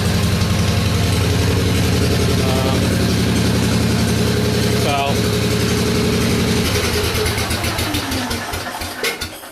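A Case 220 garden tractor with no muffler idles loud and close, a harsh, steady rapid chugging that runs throughout and tapers slightly toward the end.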